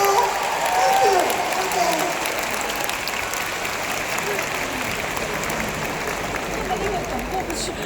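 Sustained applause from a concert audience filling the hall for a veteran female singer, steady and dense throughout, with voices talking over it.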